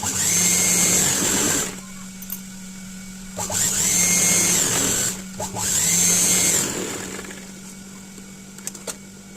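A sewing machine runs in three bursts, stitching a lined blouse sleeve, a loud whirring hum of a couple of seconds each, separated by short quiet gaps, with no talking.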